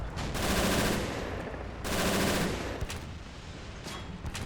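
An MG 42 machine gun fires in the Men of War video game in two long, loud rattling bursts, followed by scattered shorter shots and distant gunfire.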